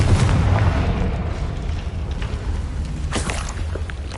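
Confringo fire spell explosions in the Hogwarts Legacy video game, a loud continuous booming blast with rumbling low end and crackling bursts across the whole stretch, strongest at the start.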